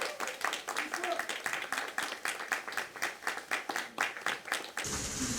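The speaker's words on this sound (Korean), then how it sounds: "큰 박수 부탁드리겠습니다" A crowd at a Korean campaign rally for the United Future Party and Future Korea Party claps in a brisk, even rhythm, close and fairly loud, with voices mixed in, until it stops abruptly near the end.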